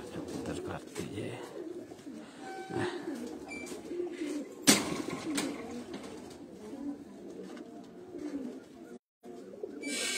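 Pigeons kept by a fancier in rural Punjab coo softly and intermittently in a yard, with background bustle and people talking nearby; one sharp louder knock breaks in midway.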